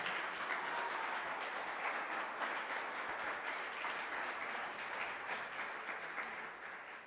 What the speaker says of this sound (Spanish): Denle un aplauso fuerte entonces.